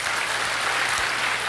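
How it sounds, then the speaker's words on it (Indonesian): A church congregation breaks into dense, sustained applause, a steady wash of many hands clapping with no talk over it. "tepuk tangan saudara."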